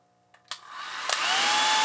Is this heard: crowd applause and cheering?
no